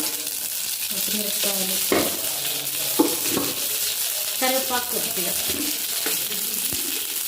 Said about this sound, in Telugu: తాలింపు పెట్టేస్తున్నా తిరగమాత గింజలు వేసేసి అంతే పెట్టుకున్నాను కదండి